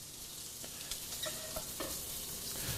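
Chicken browning in a frying pan gives a steady, close sizzle and crackle with light stirring, with no voices.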